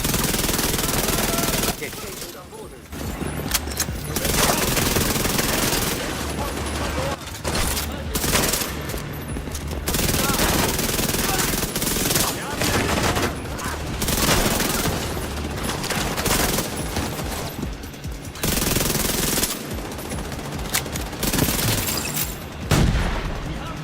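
Rapid bursts of gunfire rattle through a firefight in The Division 2, with booming impacts layered among near-continuous shooting across the whole stretch and a voice speaking over parts of it.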